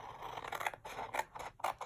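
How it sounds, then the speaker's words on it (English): Paper snips cut through paper for a pirate treasure chest craft, making a few quiet, close, crisp scissor snips in an uneven rhythm with no talking. "let me get my paper snips"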